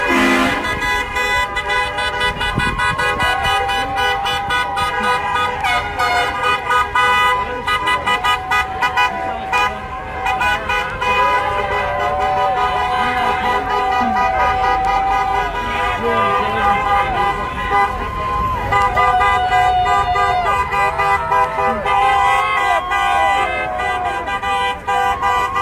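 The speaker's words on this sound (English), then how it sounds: "Still cars driving, it's amazing." At a street protest outside a governor's mansion in Minnesota, passing cars honk their horns almost nonstop, many overlapping toots over steady traffic noise for the whole stretch. Voices are heard in the background.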